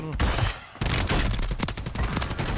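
Rapid bursts of gunfire in the shooter game Warzone 3 crackle loudly and densely, with a brief gap near the start, while a player talks excitedly over the shots.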